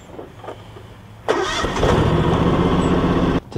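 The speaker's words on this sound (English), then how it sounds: "we'll start the tractor" A John Deere X700 garden tractor engine cranks briefly, catches with a loud burst and settles into a steady, close idle, with quiet handling noises before it starts.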